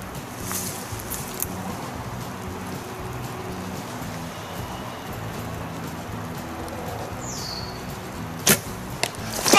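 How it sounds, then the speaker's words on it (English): An arrow is shot across a body of water at a 3D archery target, landing as a sharp hit near the end over a steady patter of rain. "Shooting across a body of water, hitting a target."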